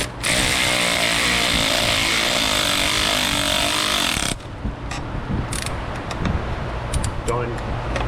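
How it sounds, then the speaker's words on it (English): A power tool being used on a socket runs loudly and continuously for about four seconds, then cuts off abruptly, leaving quieter clanks and handling noises. "All right, power tool time."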